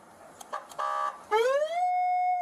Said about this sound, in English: as long as you have a siren on there and it produces a sound